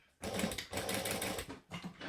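A sewing machine stitching a bag, a close, fast mechanical whirring in three bursts with short pauses between them.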